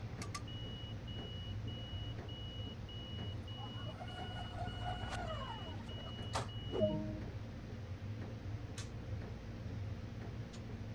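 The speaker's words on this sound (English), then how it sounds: "When you hear that beep, get out of the doorway." A short series of electronic door-closing warning beeps from a train sounds over a low, steady rumble, followed by a faint descending chime, in the video game Train Sim World.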